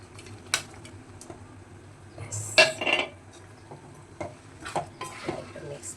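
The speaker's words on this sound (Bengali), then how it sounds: "একটু মিক্স করে নিলেই হয়ে গেল" A spoon stirs paneer into chana dal in a metal pan, giving scattered clinks and scrapes of cutlery on cookware, with one brighter clatter midway, close and fairly quiet.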